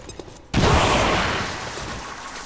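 A grenade detonates in the tactical video game XCOM 2, an abrupt loud blast that hits after a short lull and rolls out into a long, noisy rumbling decay.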